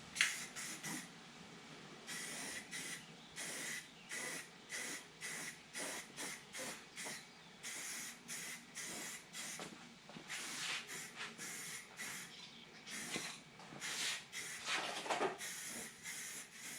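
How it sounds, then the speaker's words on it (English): Primer spray paint going onto a 54mm dual deploy model rocket inside a makeshift cardboard-box spray booth: a series of short, fairly quiet hissing bursts in an uneven rhythm, repeated for over fifteen seconds. "Here we go with some primer."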